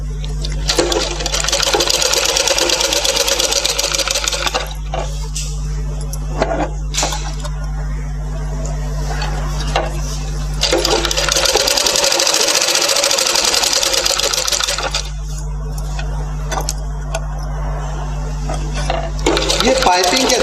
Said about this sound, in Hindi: धीरे धीरे ये कपड़ा घुमा के फिर उस पर से हम सिलाई डालेंगे